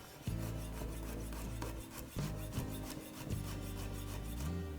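Garlic chopped with a knife on a wooden board, heard as a quick run of rhythmic raspy scrapes and taps, close and steady over a constant low tonal background.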